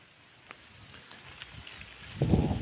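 Outdoor wind blowing softly with a few faint clicks, then a heavy gust rumbling into the microphone near the end.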